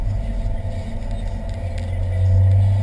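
Car at full throttle on the Rockingham race track, a loud close engine roar with a low droning rumble that swells and rises in pitch toward the end as it pulls harder.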